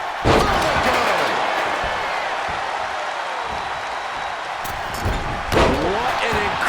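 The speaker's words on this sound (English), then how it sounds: "What an incredible moonsault." A wrestler's moonsault landing slam in the ring at a SmackDown wrestling event: a sharp, heavy thud near the start and another near the end, under loud crowd noise and an excited commentator.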